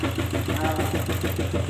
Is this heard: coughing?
no